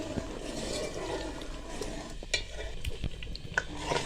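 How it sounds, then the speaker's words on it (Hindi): Spinach sizzling in ghee during tempering for palak gosht, with a steady close frying hiss, scattered clicks of a stirring spoon against the pot, and no speech. "पालक का तड़का लग चुका है।"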